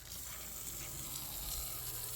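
Products for a craft show are sprayed off with a steady hiss of spraying water that runs continuously and fairly loud throughout, with no voices over it.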